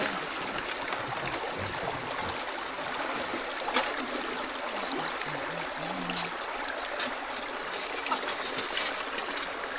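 Water washes gold prospecting material through a sluise setup in a frozen northern Wisconsin creek, a steady close trickling and running flow that continues evenly throughout without speech.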